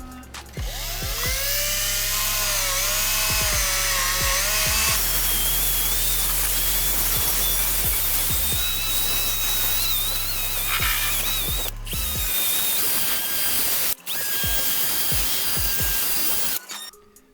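Power tool dry sanding a car headlight with 800 grit sandpaper, a loud continuous whirring grind with shifting pitch, briefly cutting out twice near the end.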